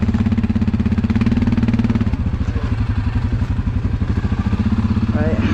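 An ATV quad, a Suzuki KingQuad or Yamaha Kodiak, rumbles close by on a rainy trail, its engine note shifting as it drives over an obstacle, with a few thumps and faint voices.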